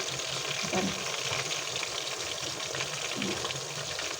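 Masala-coated pieces frying in hot oil, a steady close sizzle and bubbling hiss that continues throughout as they are turned over.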